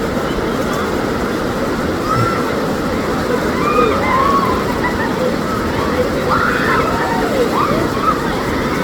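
Rushing river water below the Khun Dan Prakarn Chon Dam in Nakhon Nayok, where people go rafting, makes a steady, dense wash and slosh with no break in it.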